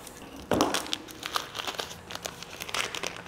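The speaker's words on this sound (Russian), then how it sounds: "Люблю этот звук, когда открывается пакетик." A tea packet is torn open and crinkled by hand, beginning with a sharp rip and followed by scattered crisp rustles and crackles of the packaging, close and fairly quiet with no one speaking.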